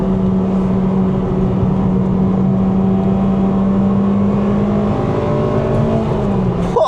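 A JDM Honda Civic Type R engine revs hard into VTEC, a loud, steady, sustained engine drone that holds its pitch for several seconds before easing off at the end.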